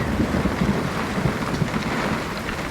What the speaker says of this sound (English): I've never been so glad to see rain.